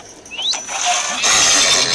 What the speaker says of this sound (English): Now we also have a donkey.